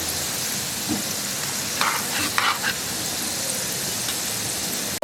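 Ripe palm fruit langcha deep-frying in oil, a constant close bubbling sizzle with a few soft clinks of a utensil in the middle, no talking.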